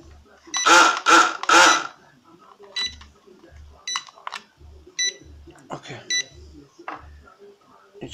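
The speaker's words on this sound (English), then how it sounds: "What is that beep?" Short electronic beeps from a Heng Tai HT-3832 radio control missile boat, about eight evenly spaced chirps after an opening burst of louder tones, with a person speaking nearby between them.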